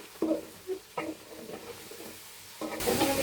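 Onions fry in oil for a chicken roast with a soft sizzle, broken by several short stirring scrapes that grow louder and denser toward the end.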